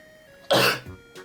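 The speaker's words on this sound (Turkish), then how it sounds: "Yüzüme yüzüme de hapşırmazsın" A single sharp, loud sneeze bursts out during Muscle Rush gameplay, followed by a short fainter exhale or sniff.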